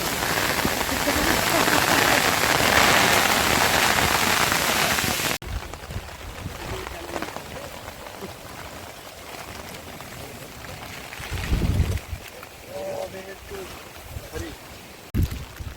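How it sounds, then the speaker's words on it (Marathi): Steady, dense rain roar fills the first five seconds at Mahimatgad fort in Ratnagiri, Konkan, then drops to a softer patter with some wind and rustling, and a brief thump near the end. "आणि पावसाने देखील जोर पकडला आहे"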